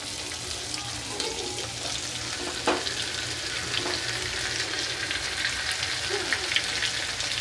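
Ginger garlic paste fries in hot oil with bay leaf, giving a steady, close sizzle and crackle with occasional small pops and stirring scrapes, with no talking.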